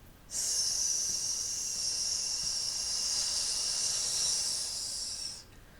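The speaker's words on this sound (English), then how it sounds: "hissing that air all the way out to 8" A single long, steady hiss of breath pushed out through the mouth during a vocal warm-up exercise, close and moderately quiet, lasting about five seconds before cutting off, with no talking.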